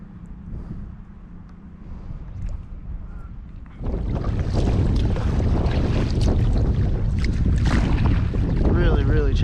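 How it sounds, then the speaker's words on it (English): Strong wind buffets the microphone while kayaking on choppy water off Boca Grande. A steadier rush runs for the first few seconds, then louder, continuous roaring gusts with water noise take over. "Luckily this wind's coming at my side and not at my front."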